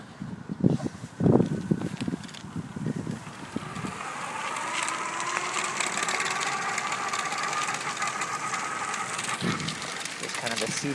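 eZip Trailz Commuter electric bike motor running in pedal assist mode, a steady whirring hum under wind noise that follows brief talk at the start, continuous and close.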